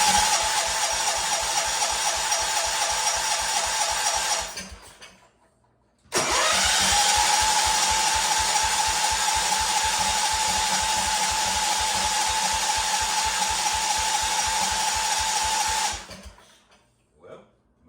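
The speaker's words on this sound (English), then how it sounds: "So it might take a few cranks to get it started, simply because the carburetor bowl is empty." Engine of a Wheel Horse C-160 lawn tractor with an empty carburetor bowl cranking hard, a loud steady rhythmic starter churn for several seconds, a brief pause, then a longer cranking run that never catches.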